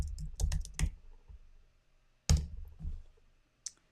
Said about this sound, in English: what if I typed in my name just for fun?